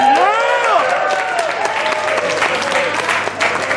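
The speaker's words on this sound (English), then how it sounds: "give a very warm round of applause to Rachelle and Gopher" An audience at an evening speech event welcomes the first speakers with warm applause, a loud sustained clapping with a few whoops, while a voice or sung tone rises over the top.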